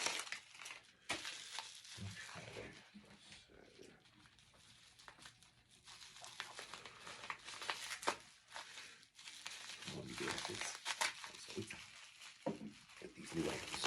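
Packing paper crumpled and rustled while unboxing an eBay parcel of vintage toys, a continuous close crinkling and crushing that swells and fades in waves throughout, fairly loud and busy with brief pauses.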